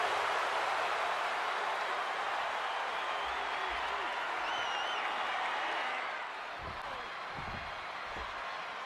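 A big WrestleMania crowd roars and cheers in the WWE 2K26 wrestling game, a dense continuous wash of arena noise that drops slightly near the end as a few low thuds come through.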